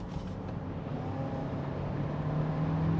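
A Ford Escape accelerating on the road to overtake another car: a steady engine drone and road rumble heard from inside the cabin, building gradually louder as the revs climb.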